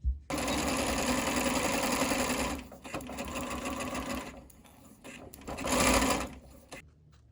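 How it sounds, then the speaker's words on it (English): A sewing machine runs close and loud as it stitches a dress strap, a fast continuous whir that slows and pauses, then a second short burst. "I'm just going to sew down one side and then bag them out"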